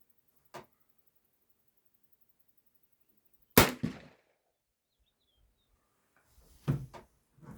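A Sears and Roebuck 6C rifle fires a single subsonic round, one sharp loud crack midway followed by a short mechanical clatter, with a faint click before it and some handling noise after.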